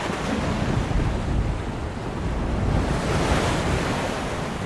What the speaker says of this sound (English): I love they just hear the waves at the end.